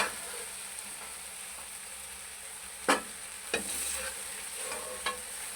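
Vegetables seasoned with chicken powder fry in a pan for Singaporean rice, giving a soft continuous sizzle broken by a few sharp stirring scrapes and clanks.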